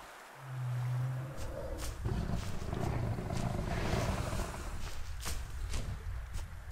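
A large creature in the dinosaur survival game Beasts of Bermuda gives a deep, rumbling roar that swells and holds for several seconds, loud and close, with heavy thuds and movement noise underneath.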